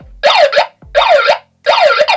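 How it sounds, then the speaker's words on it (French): A cheap tech gadget's electronic alarm mode sounds three loud warbling bursts, evenly spaced with short silences between them. "Et là on a le mode alarme."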